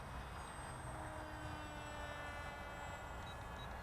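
Hype Funtastic RC model plane flying outdoors in gusty wind, a steady faint motor whine with thin high tones held for the whole stretch, fairly distant and unbroken, no voices.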